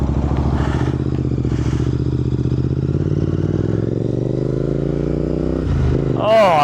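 Royal Enfield Interceptor 650 with twin exhaust pipes running steadily at a close, loud, even idle that builds slightly near the end as it pulls away, with faint talk and wind noise.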